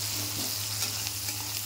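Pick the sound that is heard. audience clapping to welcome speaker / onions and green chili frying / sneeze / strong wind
onions and green chili frying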